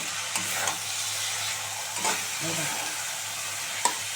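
Masala of cumin, coriander, onion, green chilli and ginger-garlic paste with potatoes being stirred and fried in a pan for a spicy dried-fish curry, a soft steady sizzle broken by a few spatula scrapes, close and alone.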